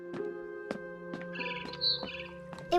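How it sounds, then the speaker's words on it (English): A barn swallow chirps in the game What Remains of Edith Finch, with several quick, sharp tweets scattered over a quiet steady background hum, close and fairly soft. "Then I heard chirping outside my window."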